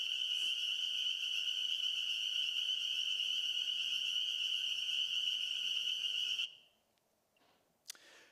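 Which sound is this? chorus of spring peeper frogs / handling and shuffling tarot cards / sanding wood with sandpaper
chorus of spring peeper frogs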